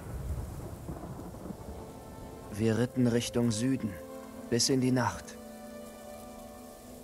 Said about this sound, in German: Ein Sturm zwang uns anzuhalten.